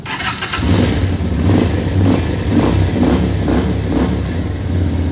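A 250cc V-twin motorcycle engine with stock exhaust revs loudly up close, throttle pulsing in repeated bursts over a rumbling idle.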